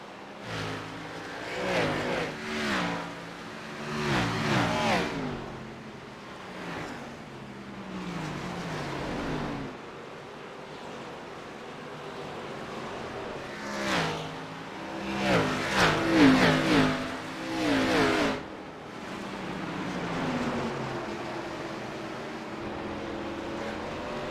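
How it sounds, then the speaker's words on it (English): Race cars roar past at Richmond in the iRacing sim, engines swelling and fading in repeated passes with revving and Doppler sweeps, some loud bursts of several cars together between quieter stretches. "Car passing for a top 10 position."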